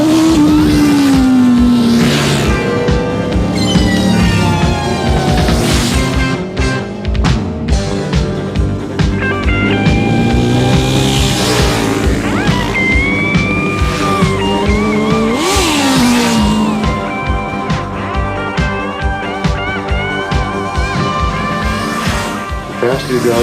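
A motorcycle on a Sunday morning ride snarls loudly through rising and falling engine revs and gear changes, with a voice talking over the engine noise.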